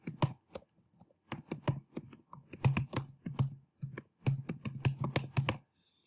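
Someone types an email address on a computer keyboard, a quick run of close, crisp key clicks in uneven bursts with short pauses between them, and no voices.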